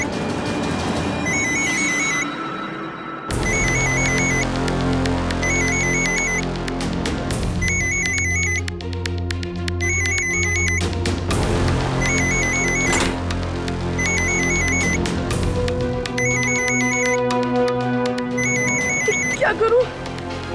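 A phone rings in a house, an electronic ringtone repeating its short chirping pattern over a musical drama score that swells beneath it.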